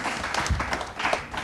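Brief applause from a studio audience on a televised school science quiz show for a team's correct answer: a short, moderately loud patter of many hands clapping, with no talk over it.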